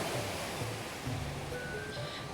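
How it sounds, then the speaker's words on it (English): High ocean waves wash in at Echo Beach, Bali, a continuous broad surf rush heard from close by, steady and fairly soft without distinct breaks. "today we might get wet because the waves are quite high."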